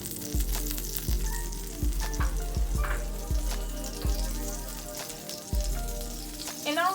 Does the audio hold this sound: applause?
no